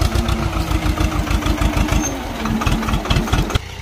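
A Swraj 724 tractor engine, pulling a 7x7 disc harrow in a field, runs steadily close by with a loud, rhythmic diesel chug that continues throughout before dropping off near the end.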